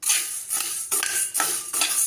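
Chana dal dry-roasting in a pan over medium heat, stirred with a metal spoon: repeated scraping, rattling strokes in rhythmic bursts, close and fairly loud, with no voices.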